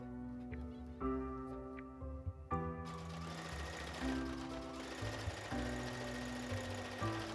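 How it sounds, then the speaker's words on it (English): A sewing machine stitches a gathered tulle skirt to a bodice, a close mechanical hum starting and stopping in short uneven runs with pitch shifts as the speed changes. "I'm going to pin our gigantic skirt to the bodice and stitch those together"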